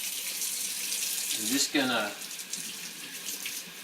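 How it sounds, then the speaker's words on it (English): Tap water runs steadily into a sink as hands are washed, a broad continuous splashing hiss with a brief louder gush midway, with a voice speaking briefly over it. "the first thing we're going to do is get the water running."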